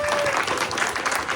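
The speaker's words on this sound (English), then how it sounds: "I think we need a big round of applause." A congregation in full church pews bursts into applause, a brief, dense patter of clapping with crowd murmur beneath.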